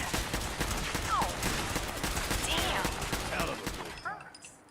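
Enemy gunfire in Fallout 4 rattles in rapid, dense bursts, loud and close, with a few sweeping game effects before it fades out near the end.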